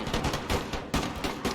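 Rapid volleys of Puckle gun fire from the Empire: Total War strategy game crackle in repeated bursts, loud and close, with sharp reports clustered into uneven rhythmic salvos.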